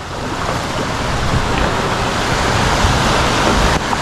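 Waves and wind batter a boat at sea during the northeast monsoon, a steady loud roar of surf and gusts with no break and no voices.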